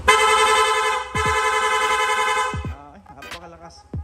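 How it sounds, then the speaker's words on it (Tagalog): Loud aftermarket horn on a Yamaha NMAX155 scooter, blaring in two long sustained blasts close by, then a few shorter choppy honks as it trails off. "Long press lang po natin yung horn switch"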